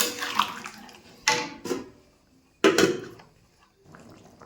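Water poured from a vessel onto meat with potatoes in a cooking pot for a thin meat curry, in a few separate splashing bursts with quiet gaps between.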